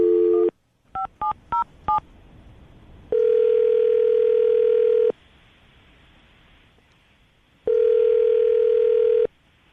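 A phone call is placed: a short beep, a rapid run of keypad dialing tones, then two long ringback tones with a pause between them, loud and clear with no talking.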